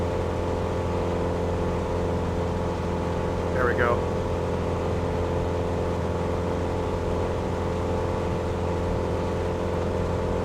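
A light aircraft engine in the Aerofly FS2 flight simulator drones at a steady, even pitch throughout, loud and continuous, while someone talks briefly over it.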